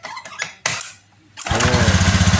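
A motorcycle engine catches after a kick-start and settles into a loud, steady, throbbing idle close by, preceded by a few scraping knocks and a brief pause.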